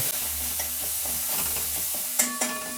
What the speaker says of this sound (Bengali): এবারে আমি মশলাটাকে ভালো করে একটু কষিয়ে নেব।